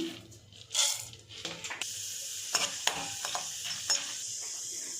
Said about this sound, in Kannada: ಈಗ 2 ಸ್ಪೂನು ಕಡಲೆಬೇಳೆ ಹಾಕ್ತಾಯಿದ್ದೀನಿ